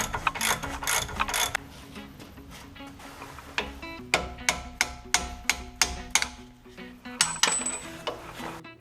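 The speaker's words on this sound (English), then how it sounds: "First, remove the ball joint bolt." A ratchet removing the ball joint bolt on a 2010 Ford Escape, heard as quick runs of sharp metallic clicks, a pause, then a steady series of strokes close and clear with no talking.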